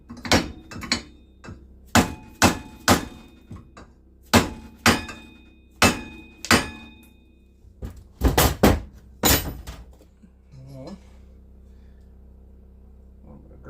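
A tool gives light, sharp taps on a wheel part of a 2-stroke dirt bike. The taps come in a quick series of single and paired hits, close and clear, followed by a quieter clatter.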